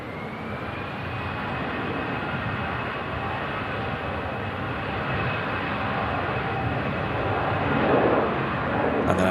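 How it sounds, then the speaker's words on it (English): Jet engines of an EasyJet airliner spool up as it begins its takeoff roll on runway 23 left at Manchester Airport, a steady, broad roar heard from a distance, swelling slightly toward the end, with wind noise and no speech. "EasyJet off to Amsterdam, just starting her takeoff roll over on runway 23 left"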